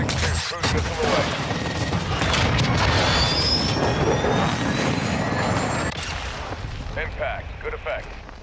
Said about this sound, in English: Trojan 6-2, cruise missile away.